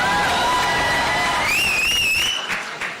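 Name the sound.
audience applause and cheering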